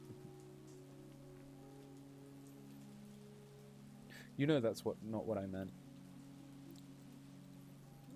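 Steady rain falls in a video game scene, a constant even wash heard throughout, with piano notes lingering in the background and a person speaking briefly partway through.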